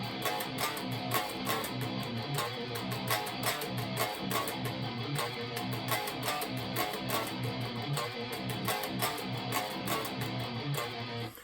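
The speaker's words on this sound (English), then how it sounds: "Jim and Mick are gonna do two separate riffs that make this cool harmony" Two electric guitars play interlocking riffs in harmony, a busy, rhythmic pattern of bright picked notes running steadily throughout.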